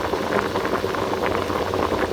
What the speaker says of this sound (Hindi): पानी में अच्छी तरह से उबाल आ रहा है